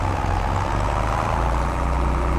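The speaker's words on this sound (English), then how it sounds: "Sounds like a tractor." A steady, low vintage tractor engine idle chugs nearby with an even, continuous rumble and no voices over it.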